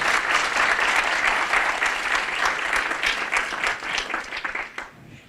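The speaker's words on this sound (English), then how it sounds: "Round of applause for Emily." A small audience at a marketing bootcamp session gives a dense burst of clapping that fades out over a few seconds, close and fairly loud.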